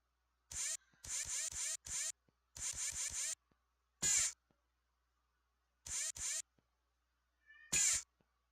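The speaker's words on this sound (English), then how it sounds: "Silly cat." A cat meowing repeatedly in short bursts, several quick clustered cries followed by longer single meows, close and clear against a quiet room.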